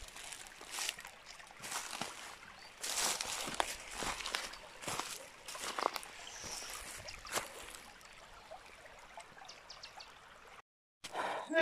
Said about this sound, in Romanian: Apa curgătoare.